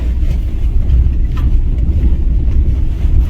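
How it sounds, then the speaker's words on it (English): A steady, loud low rumble of engine and tyre noise from a car moving along a road near a public park, continuous for the whole stretch with no talking. "I'm driving past him again."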